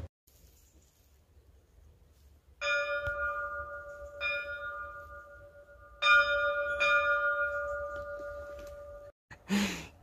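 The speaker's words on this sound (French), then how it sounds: "Tu veux venir sonner la cloche?" Church bell in a Croatian village struck by hand, with several clear, ringing strokes that sustain and overlap, fairly close in a quiet setting, ending with a brief burst of noise.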